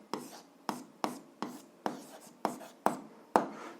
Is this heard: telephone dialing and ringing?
no